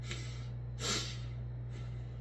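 A voice imitates a sniff with a few soft, close, breathy nasal inhales against a steady low hum, one sharper than the others.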